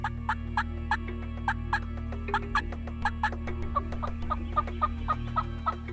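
Wild turkeys gobble repeatedly, several birds calling in quick rattling bursts over a low steady hum, moderately distant.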